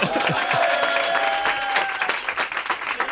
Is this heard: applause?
yes